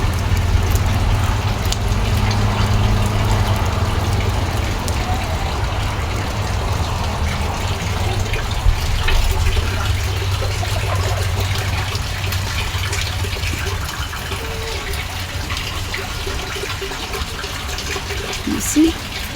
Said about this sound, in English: That's how we collect water in our village